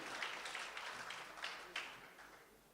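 Audience applause in a hall during an event on inclusive education: a steady wash of hand clapping from a crowd, moderately loud, swelling briefly near the end before tapering off, with no clear talk over it.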